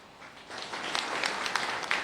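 Audience at a political speech breaks into scattered clapping that builds from quiet to a steady, moderately loud patter of many hands.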